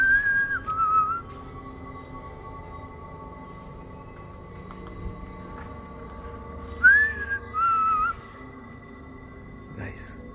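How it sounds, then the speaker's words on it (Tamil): Whistling inside an abandoned building, a clear two-part whistled call near the start and a similar answering whistle later, ringing out over a quiet, hollow background with faint murmurs. "பதிலுக்கு யாரோ விசில் அடித்தாங்க"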